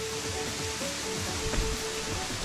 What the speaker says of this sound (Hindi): वो देखिए सामने का जेन्युइन वाटरफॉल है